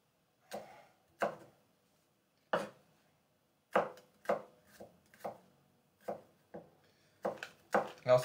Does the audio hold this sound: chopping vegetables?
yes